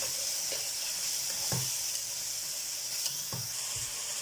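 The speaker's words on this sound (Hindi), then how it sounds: "तो अब गाजरों को भी अच्छे तरीके से भून लेंगे।" Steady sizzling of carrots frying in a pan, with a few soft scraping knocks of a spoon stirring at intervals.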